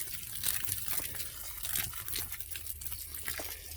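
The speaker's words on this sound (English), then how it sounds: "Now I'm going through each one of them and giving them a generous dose of water." Water is poured generously into dry potting soil in containers of tomato starts, with a steady close trickle and soft crackling as the soil soaks it up. No one speaks.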